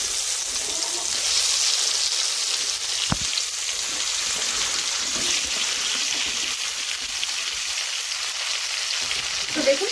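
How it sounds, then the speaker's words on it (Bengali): Dried raw mango pieces frying in hot spiced oil for a sour-spicy pickle, a steady close sizzle with a dense, even hiss throughout and one brief knock partway through. "ঠিক এই পর্যায়ে দিয়ে দিচ্ছি আগে থেকে টুকরো করে শুকিয়ে রাখা আমের টুকরো, আমগুলোকে সরাসরি ওই তেলের মধ্যে দিয়ে দিচ্ছি।"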